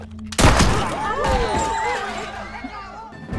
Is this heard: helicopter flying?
no